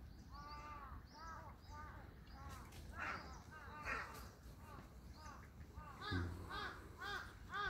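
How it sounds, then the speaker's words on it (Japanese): Crows caw repeatedly at the Iwafune coastal scenic viewpoint, one of the Mito Eight Views, near the sea in Japan. The harsh calls come in irregular bursts over a constant outdoor background while a person talks. "こんな感じで、まあちょっとカラスがうるさいですけど。"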